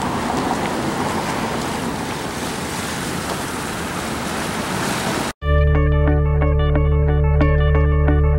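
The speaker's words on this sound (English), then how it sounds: "Ooh, waves." Ocean waves wash in a continuous, broad roar with wind buffeting the microphone, then cut off abruptly into a loud, unrelated tonal music passage.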